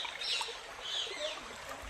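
Water pouring over the overflow of Kempasagara lake near Magadi, a steady broadband rush with no breaks, heard at moderate distance over the two seconds.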